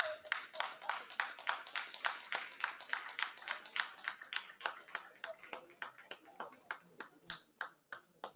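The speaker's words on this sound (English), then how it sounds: "If you intend to make it a clap, go ahead." An audience at a stakeholder roundtable on education in Nigeria claps in a rhythmic, fairly even beat, sharp close hand claps repeating steadily for about eight seconds and gradually thinning toward the end.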